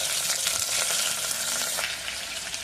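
Carrot, cauliflower and raw peas frying in a pan for dal khichdi give a close, steady hiss and sizzle, with light stirring scrapes running underneath and no talking.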